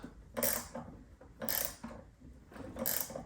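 A wrench ratcheting as it tightens a tip on a pressure washer surface cleaner, three short bursts of crisp metallic clicking separated by brief pauses, close and fairly quiet.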